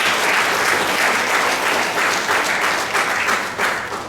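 Sustained applause from an audience at a national auto tech fest in Kolkata, dense and fairly loud, fading slightly toward the end.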